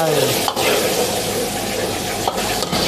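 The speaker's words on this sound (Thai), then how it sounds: "คั่วให้หอมก่อนครับกระเทียมเทลงไป" Garlic stir-fried in hot oil in a wok for squid egg basil stir-fry, a loud close sizzle with scraping stirs and a couple of sharp clanks.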